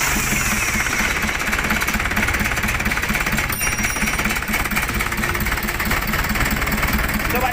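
A diesel car engine, cold and being adjusted after repair, runs at a loud, rough idle with a rapid clattering knock, steady and close throughout; the start itself is not distinct.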